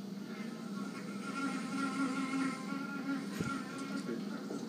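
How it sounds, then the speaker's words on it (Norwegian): A housefly buzzes close by with a steady, droning hum that wavers slightly in pitch, with quiet background noise behind it. "ikke om dere hørte en flue like tydelig som det jeg gjorde"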